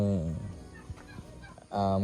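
A turkey gobbles in short harmonic bursts, a rattling call at the start and again at the end, with quieter outdoor noise between.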